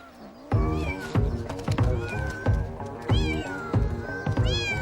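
Several cats on an island off southern Japan meow and caterwaul loudly close by, giving a rapid series of overlapping yowls with no one speaking.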